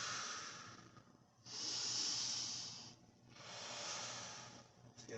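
Long, breathy exhalations come from a person practicing qigong. The slow, steady rushes of air are close and fairly loud, each lasting over a second, with quiet gaps between them and no speech.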